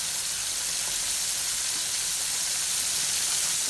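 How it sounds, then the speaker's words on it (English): Cube steaks frying two at a time in a pan, giving a steady, even sizzle with a constant hiss that holds at the same level from start to finish, with no voices. "I'm going to cook 2 at a time, let them fry"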